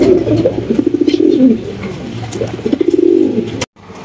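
Pigeons coo in a loft in rhythmic, throaty bursts, close and loud, with a short break near the end.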